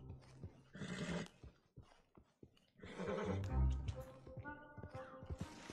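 A horse whinnies loudly in Red Dead Redemption 2, with hoofbeats clopping and other noises around it.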